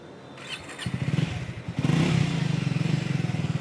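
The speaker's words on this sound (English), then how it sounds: "Now main aapko exhaust note sunata hun." A Triumph Speed 400 motorcycle with a custom exhaust starts up and settles into a loud, steady, throbbing idle with a rapid pulsing beat, heard close and alone after a brief clatter.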